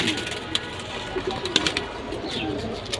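Pigeons kept by a fancier coo softly at close range in a busy loft, with faint sharp clicks and rustles over a steady background hum.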